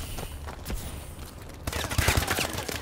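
Gunfire from the video game Call of Duty: Advanced Warfare comes in short bursts of rapid shots, fairly faint at first and growing louder and denser toward the end.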